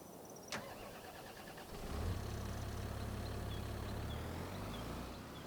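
Tractor engine in Farming Simulator 25 kicks in after a brief click, settling into a low, steady rumbling drone that holds under faint background ambience until the end.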